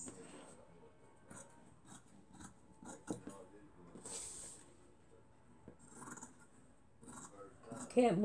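Fabric being cut with good sewing scissors for a homemade wallet, a series of soft, irregular snips and rustles close by, with a few sharper clicks and brief talk.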